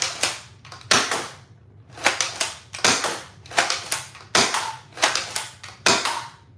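Foam dart blaster fitted with a Dart Zone magazine adapter firing repeatedly, about eleven sharp, loud close-up snapping shots in quick irregular pairs and runs, each followed by a brief mechanical rattle, no talk.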